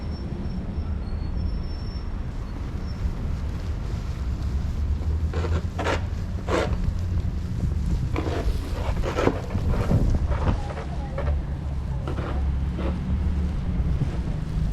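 Strong wind roars and buffets the microphone outdoors during a New York nor'easter snowstorm in 2020, a loud, continuous rumble with gusty swells throughout.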